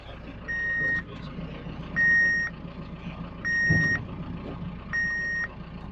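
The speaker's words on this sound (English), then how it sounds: "All the fun beeping." Four evenly spaced electronic reversing beeps from farm machinery sound over a low engine rumble, each tone steady and moderately loud.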